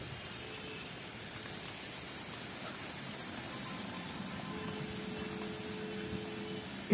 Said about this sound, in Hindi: इतना घना जंगल और ये इतनी बेहतरीन बारिश